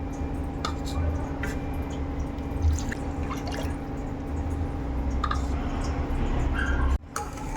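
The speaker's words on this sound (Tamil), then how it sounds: "ரெண்டு கப்பு தண்ணி ஆட் பண்ணிக்கோங்க." Two cups of water are poured onto sugar in a pan for sugar syrup for bread gulab jamun, a steady close trickle and splash with small drips running throughout, briefly cutting off near the end.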